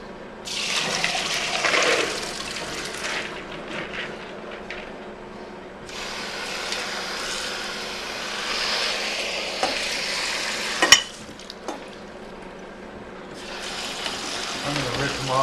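Water from soaked split peas pours out in bursts as they are drained, a loud splashing rush that stops and starts again, with some clattering in between.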